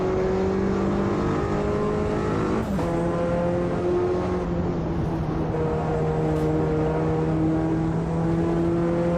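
A race car engine in the Automobilista 2 sim racing game holds a loud, steady mechanical drone, pitch dipping briefly as it shifts, then carrying on at near-constant revs.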